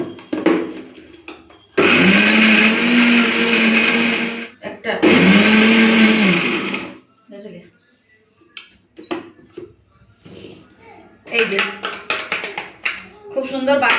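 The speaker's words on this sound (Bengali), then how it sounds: "এদিকে সিমটাকে বেটে নেবো সিম আর চিংড়ি মাছ" Flat beans and shrimp ground in an electric blender, which runs loudly in two bursts of a few seconds each with a pause between. Tapping and handling noises follow, and a voice speaks briefly.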